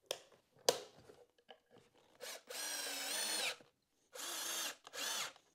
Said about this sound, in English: before you drive those screws home.